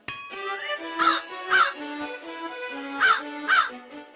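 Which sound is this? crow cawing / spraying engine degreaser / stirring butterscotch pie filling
crow cawing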